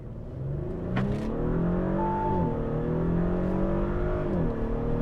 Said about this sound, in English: You can hear like the gear changes, the sport exhaust is like farting at the back.